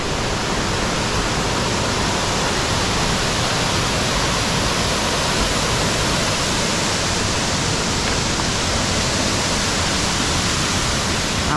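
A waterfall at Chuvisqueiro campsite in Riozinho, Rio Grande do Sul, pours into a deep pool with a loud, close, unbroken roar that fills the whole stretch.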